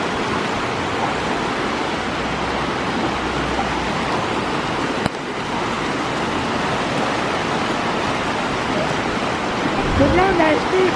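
River water rushing in a steady broadband wash, close and constant, with a brief knock midway and faint voices surfacing near the end.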